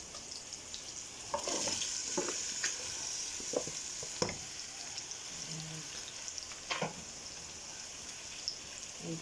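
Chayote sautéing in a pan, a continuous sizzle with scattered crackles and occasional spatula scrapes and stirring clatter, close by.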